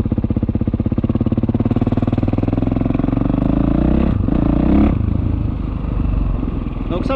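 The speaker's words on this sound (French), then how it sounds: "Et là, je lâche l'embrayage. Voilà, la moto n'avance pas." Motorcycle engine fitted with a Rekluse Radius CX automatic clutch, idling steadily in second gear with the clutch lever released, a close, even rapid thrum throughout with a brief clattering shift midway.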